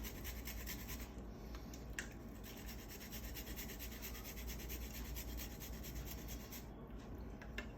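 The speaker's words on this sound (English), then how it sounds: "Let me just grate a little bit more and then I'll be done." Ginger grated by hand in a home kitchen, a continuous close rasping scrape with a steady rhythm, fairly quiet and heard without talk.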